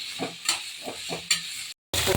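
Spices such as cloves fry with tomato in a hot pan for chicken chops, giving a close, hissing sizzle with rhythmic scraping stirs, and a brief dropout near the end.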